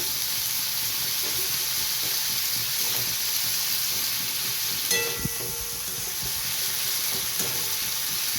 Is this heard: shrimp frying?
yes